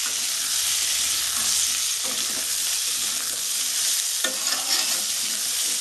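Chopped onions and potatoes fry and get stirred in a pan, a steady close sizzle with scraping stirs running throughout and no voices.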